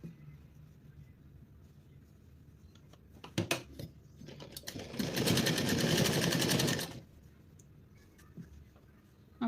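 A sewing machine stitches fabric in one loud, rapid burst of about two seconds, preceded by a few short clicks and handling taps in a quiet room.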